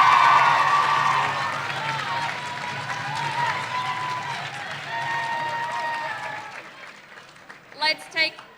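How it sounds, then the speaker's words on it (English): Applause and cheering from an awards ceremony audience as an honoree walks, a dense crowd wash that fades over several seconds, with voices mixed in and a few short bursts near the end. "Be sure to give her a round of applause as she walks"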